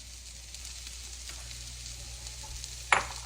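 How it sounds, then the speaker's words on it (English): Garlic sizzles quietly in a pan as food fries, a soft steady hiss with faint stirring and one sharp clink of a utensil near the end. "Now we're going to add our garlic"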